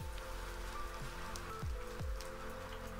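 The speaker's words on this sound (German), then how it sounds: "Ja, das ist Regen." Rain falling in the survival game Crash Landing, a steady patter of drops over a continuous hiss, joined by a few short low thumps.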